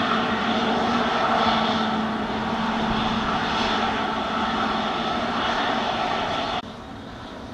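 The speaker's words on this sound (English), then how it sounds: "Landing Airbus 321" American Airlines Airbus A321 landing at Sangster International Airport, Montego Bay, Jamaica, a loud, steady jet engine roar that holds for several seconds, then drops abruptly near the end.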